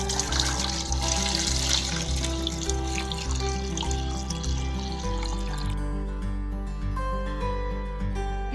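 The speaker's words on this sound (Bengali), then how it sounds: "ওই আগের দিনে দই এটা, তাতে হালকা গরম দুধ ঢেলে দিচ্ছি আমি।" Lukewarm milk pours onto leftover yogurt from the day before, a steady liquid stream with a continuous low hum underneath, running without pause through the whole stretch.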